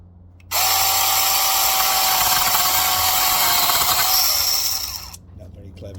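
A Handwise 6-inch battery mini chainsaw cuts through a 1-inch piece of wood with a loud, steady high-pitched whine and rasping bite that starts abruptly, holds for about four and a half seconds, then winds down.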